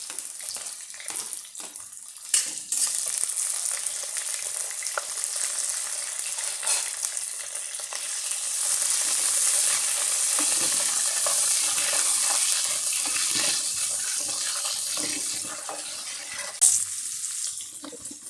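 Chopped onions, green chilli and tamarind sauté in a pan, a steady close sizzle with scraping stirs and occasional clinks, no voices.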